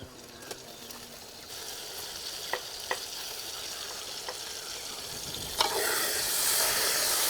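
Tomatoes and onions fry in a pan for a prawn curry, with a soft hiss under scattered spoon taps and scrapes that build to a louder, steadier sizzle near the end.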